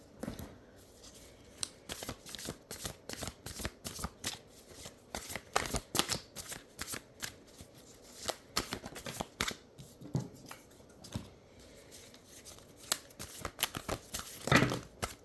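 A deck of tarot-style cards is shuffled by hand, giving a series of crisp riffling and slapping bursts at an uneven rhythm, close and fairly quiet.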